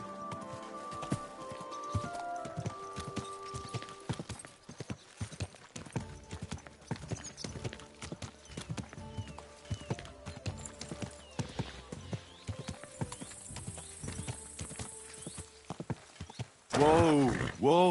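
Steady hoof clip-clops of a horse at a walk in Kingdom Come: Deliverance 2, with a whinny near the end; the sound has a game-like, synthesized quality.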